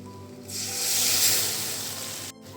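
A loud hiss swells as water hits hot frying spices, holding for about two seconds before cutting off sharply.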